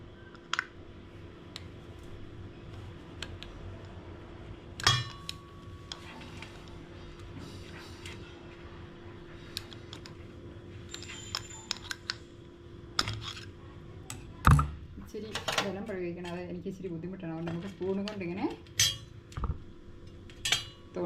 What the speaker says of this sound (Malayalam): ഇനി നമുക്ക് ഇത് പുട്ടൊക്കെ കുത്തുന്ന കമ്പിയില്ലേ അതുകൊണ്ട് നമുക്ക് കുത്താം